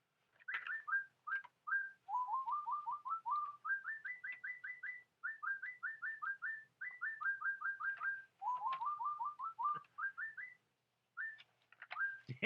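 A toy bird repeats rapid whistled chirping phrases, close and fairly loud, in bursts with short pauses and no talking.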